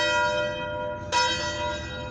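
A large church bell of about 805 pounds tolls an approximate B note, its long ringing tone sustaining and fading, then struck again about halfway through, loud and resonant.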